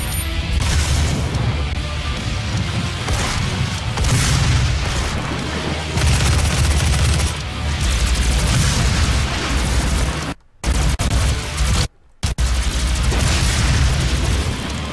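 Grenade and other explosions in DOOM (2016), loud booming blasts over dense, continuous combat noise with heavy low rumble, broken by two brief silent dropouts near the end.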